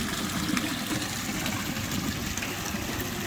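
Water gushes steadily from the outlet of a fish pond at a fish farm in Lagos, Nigeria, a continuous broadband rushing and splashing at moderate volume with no voices.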